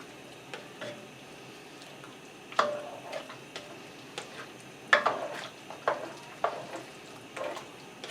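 A utensil scrapes and taps against a pan while sweet and sour ham is stirred, soft irregular knocks over a faint low sizzle, close and quiet with no talk.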